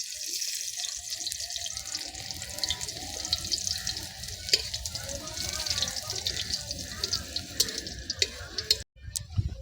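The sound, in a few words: crushed garlic frying in oil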